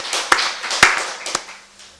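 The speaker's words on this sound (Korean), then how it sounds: "우리 박수로 하나님께 영광 드리겠습니다" A church congregation gives a few loud, sharp hand claps during a Korean Wednesday worship service, spaced irregularly and fading out.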